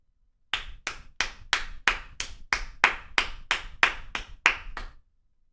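A dozen evenly spaced sharp claps sound close and loud during a Rocket League championship watch-party livestream, each crisp burst decaying quickly, with no talk over them.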